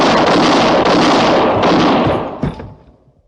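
Gunfire bursts loudly through a frontier radio drama scene, a dense rapid volley of shots that fades out near the end.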